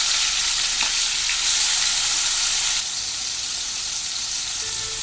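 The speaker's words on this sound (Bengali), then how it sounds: "তেল গরম হয়ে গেছে, এবার নুন হলুদ মাখানো চিংড়ি মাছগুলোকে দিয়ে ভেজে নেব।" Salted, turmeric-coated shrimp fry in hot mustard oil, a loud close crackling sizzle that stays strong for nearly three seconds, then drops to a quieter steady hiss.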